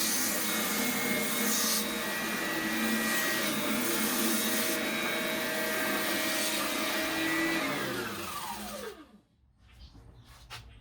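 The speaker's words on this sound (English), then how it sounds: "This oscillating spindle sander is a pretty esoteric tool, but it's great at smoothing out interior curves like this." Oscillating spindle sander smoothing interior curves in wood, a steady whirring drone with rubbing abrasion that runs continuously, then winds down with a falling pitch as the motor stops near the end.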